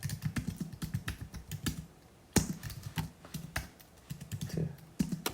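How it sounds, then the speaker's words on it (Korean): Keywords typed one by one on a computer keyboard: a steady, close patter of key taps with a brief pause partway through, no talking. "그래서 저는 일일이 혹시 모르는 거니까 이렇게 타이핑을 칩니다."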